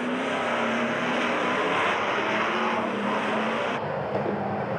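Stock cars from a tightly packed Euro-Racecar NASCAR field at the Le Mans circuit roar continuously, a loud dense engine drone with shifting pitch as the cars run past.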